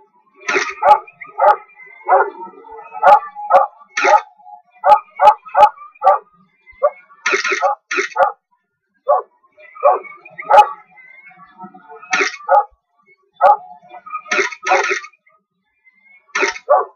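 Puppies in a Wii Party photo minigame bark in loud, sharp bursts with yips and whimpers, coming in irregular clusters separated by short silences.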